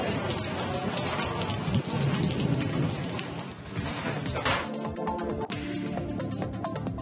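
Heavy thunderstorm rain over Chitradurga district, Karnataka: a dense, continuous roar of downpour pounding surfaces, with low rumbling thunder rolling underneath throughout, loud and close with no voices.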